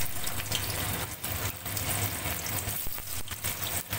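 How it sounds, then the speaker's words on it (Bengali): Pieces of paneer fry lightly in hot oil in a home kitchen, giving a soft, continuous sizzle with faint crackles and a few small clatters, heard alone and fairly quietly. "দেখো বন্ধুরা, তেল গরম হয়ে গেছে, এবার পনিরগুলোকে আমি হালকা করে ভেজে নেব।"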